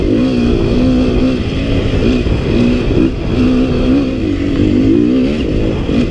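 A four-stroke dirt bike engine revs hard while being ridden on a wooded trail, a loud, continuous close-up drone with a wavering pitch as the throttle rises and eases.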